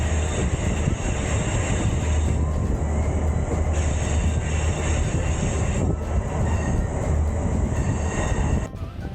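A Rocky Mountaineer passenger train runs on rails through Glenwood Canyon, Colorado, with a steady heavy rumble of wheels and a sustained high metallic squeal, loud and close, continuing without pause until it eases at the very end.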